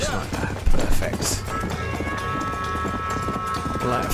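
A horse gallops in the video game Red Dead Redemption, its hooves clip-clopping in a quick, steady rhythm close up, with a louder thump near the start and a voice talking over part of it.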